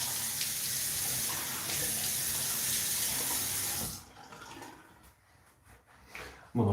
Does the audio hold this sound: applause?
no